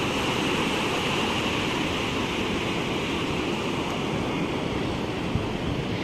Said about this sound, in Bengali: বেশ অনেক বড় বড় ঢেউ আসছে আজকে।